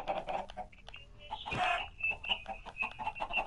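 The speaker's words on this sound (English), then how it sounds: "How many chickens" Minecraft chickens clucking and squawking, with a louder burst in the middle and repeated short calls throughout, fairly quiet overall.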